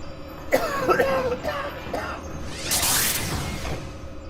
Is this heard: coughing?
yes